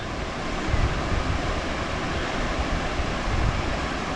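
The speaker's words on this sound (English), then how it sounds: "watch these rafters all go down these rapids all the time" Class II rapids called Old Scary on the West Fork American River rush in a steady, dense roar with no breaks, close and fairly loud, with some wind noise on the microphone.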